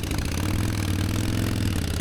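Steady, loud idle of a motorcycle engine, a deep continuous rumble with no breaks, part of a group of bikes at the Sturgis rally.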